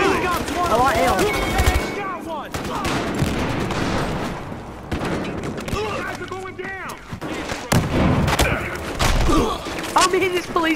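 Battlefield Hardline gunfire, bursts of shots and thumps through a chaotic firefight, loud and frequent, with an excited voice talking and shouting over it.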